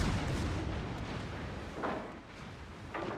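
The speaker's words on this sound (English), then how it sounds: "And that was a nice salvo." Heavy naval gun fire in a World of Warships battle, a Yamato among the ships, with dense low booming rumble throughout and a few sharper cracks near the end, loud and close.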